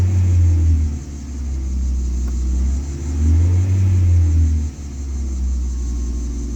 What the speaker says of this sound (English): I don't like the delayed revving